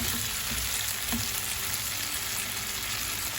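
Garlic prawns fry and get turned in a pan, a loud, continuous close sizzle with a faint scrape of turning partway through and no talking.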